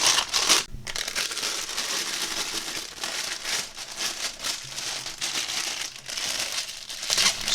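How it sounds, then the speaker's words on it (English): Crinkly plastic piping bag handled and pushed into a cup while preparing resin for a tray, a steady close crinkling and rustling throughout with a few sharper crackles and no talking. "I'm going to take a cup with a piping bag,"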